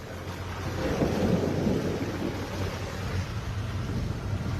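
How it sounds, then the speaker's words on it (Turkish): Hail pelts down during a storm in Osmancık, a dense steady patter and hiss of falling ice with a low rumbling undertone, moderately loud and continuous without any voices. "Dolu yağdı dolu."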